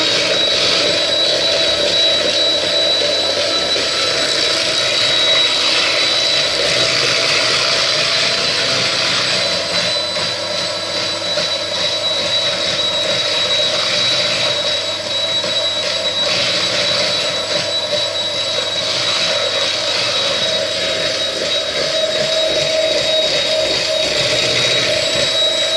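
An electric hand mixer beats cannelé batter with a steady, loud motor whine and a high whirring tone that runs without a break, close up with no voices.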